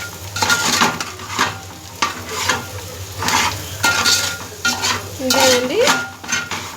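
Boiled potato fry sizzling in a pan while a spoon stirs and scrapes it, giving repeated loud clinks against the metal over a steady close frying hiss, with no talking.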